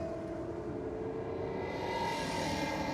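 A supercharged 304 V8 drag racing engine drones at a distance down the strip, a steady mid-pitched roar that swells slightly toward the end with no talking.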